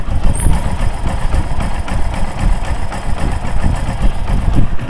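A Hero Splendor Pro motorbike engine idles steadily close by, a continuous low rumbling throb with no speech.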